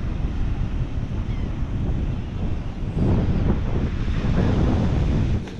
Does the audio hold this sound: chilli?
no